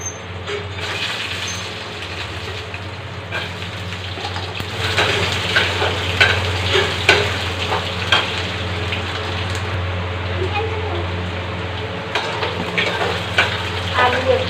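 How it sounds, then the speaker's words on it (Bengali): Small diced potatoes fry with panch phoron spice in oil, a loud steady sizzle with occasional stirring scrapes over a low background hum. "ভেজে নিয়েছি"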